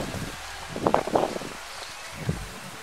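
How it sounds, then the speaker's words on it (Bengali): Wind blows through trees beside the Atreyee river at Balurghat, a soft, steady rustle with a few louder gusts of leaves. "হাওয়ার শব্দ শোনা যাচ্ছে"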